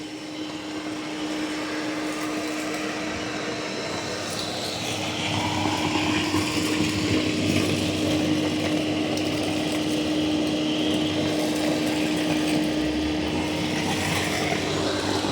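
Dreame X60 Max Ultra robot vacuum mopping a floor, a steady motor whine with a constant tonal hum, growing slightly louder midway as it maneuvers around an obstacle.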